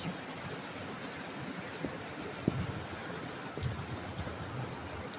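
Steady rain falls outdoors in a broad, even wash, with scattered drops tapping a surface now and then over the hiss.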